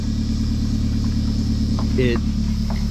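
A Chevrolet Colorado pickup with a 2.8 Duramax diesel towing a houseboat on a trailer gives a steady low engine drone throughout, with a voice talking over it.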